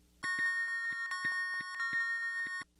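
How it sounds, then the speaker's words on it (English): Bright bells ring and chime continuously in a sustained shimmer, struck repeatedly in a quick, irregular pattern, alone and fairly close. "A song's worth of bells rang and chimed as she waved her arms"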